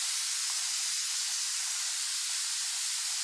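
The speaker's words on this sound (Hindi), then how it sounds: "आपको कुकर की सीटी की आवाज आ रही है क्या?" A pressure cooker lets off a steady, hissing steam release at a constant level throughout, with no voices heard.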